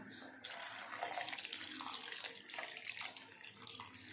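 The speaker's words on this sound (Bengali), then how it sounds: "এর মধ্যে দিয়ে দেবো রুট গোলার জলটা" Flour-water slurry poured into a pot of chicken soup, a steady close liquid splashing and trickling that runs continuously for several seconds.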